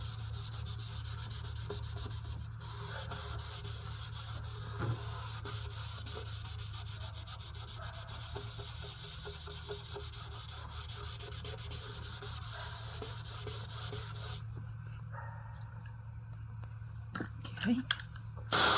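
A car headlight is hand-sanded wet in a cross pattern, giving a steady close scratchy rubbing that runs continuously for the whole stretch, with faint handling noises near the end.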